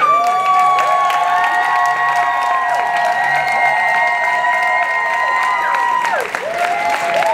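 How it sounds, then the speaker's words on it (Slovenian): Audience applause for dance formations at the Briljantina dance competition final, a broad steady wash of clapping and cheering with sustained music tones running through, loud and continuous before a brief dip near the end. "Še en velik aplavz za naše formacije."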